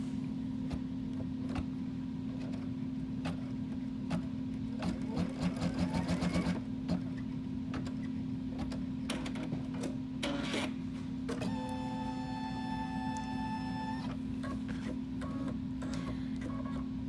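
A sewing machine stitches a face mask cover, running in a steady rapid mechanical hum with brief starts and stops and a faint whirring pattern later on, alone without talk.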